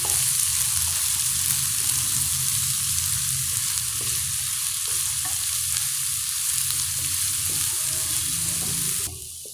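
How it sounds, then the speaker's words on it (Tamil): Onions and curry leaves sauté in a pan for a potato coconut gravy, giving an even, dense sizzle with faint stirring knocks, close and steady until it drops off abruptly near the end. "வெங்காயம் நல்லா வதங்கியாச்சுங்க."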